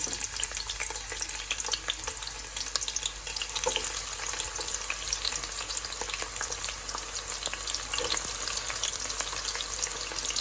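Onions poured into hot oil fry with a loud, constant crackling sizzle that stays dense and even from start to finish, with no voices over it.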